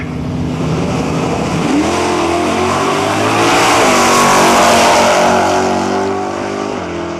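A 572 cubic inch 1971 Chevelle and a Dart launch at a drag strip, engines roaring loud and close, rising in pitch as they accelerate hard, then sweeping away in a sustained full-throttle howl.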